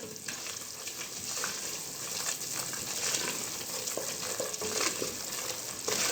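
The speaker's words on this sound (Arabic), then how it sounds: "ايدنا كده ما توقفش في التقليب، نقلب كده باستمرار" A spoon stirs mufataka, a thick Egyptian fenugreek-and-molasses sweet, continuously in a cooking pot, giving soft repeated scraping and a gentle bubbling sizzle at close range.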